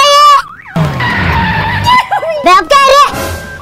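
Car braking hard and skidding to a stop, a screeching tire squeal running under shouting voices, loud and close.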